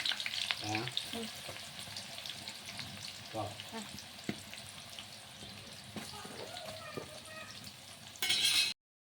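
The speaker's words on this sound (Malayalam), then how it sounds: "2 ഉള്ളി എടുത്തിട്ട് പൊരിക്കുക." Two onions fry in a pan for a special homemade biryani, giving a soft, steady sizzle with occasional stirring scrapes and brief voices, ending in a louder burst of hiss.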